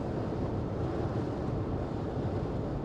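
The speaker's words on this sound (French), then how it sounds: "Là, il y a beaucoup de vent, hein, beaucoup de vent." Strong wind roars steadily across the microphone, a dense low rumble that never lets up, with no voices.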